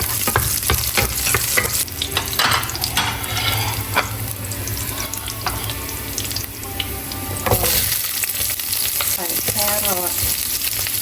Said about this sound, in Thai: ใส่น้ำมันไปนะคะ แล้วก็ใส่กระเทียม ลงไปเจียวค่ะ